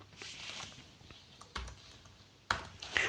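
Keys on a computer keyboard tapped to enter a PAN number in an online loan form, soft irregular clicks with a few sharper presses, close and quiet, no talk.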